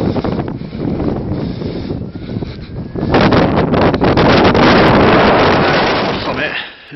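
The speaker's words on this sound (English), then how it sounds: "it's getting windy" Strong wind on a hilltop summit buffets the microphone in a steady roar, growing louder midway and easing off near the end.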